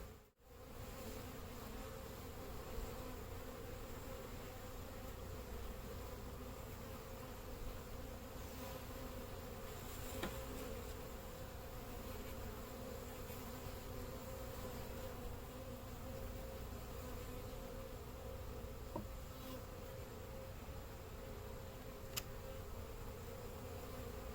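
Bees hum steadily around an opened hive during a spring inspection while mite strips go in, a dense, even buzz holding close throughout with a few brief knocks and clicks from handling.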